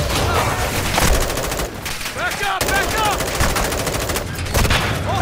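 Dense automatic gunfire in a Modern Warfare II firefight: rapid, loud bursts of rifle and machine-gun shots, with overlapping volleys and shouted voices in the middle of the exchange.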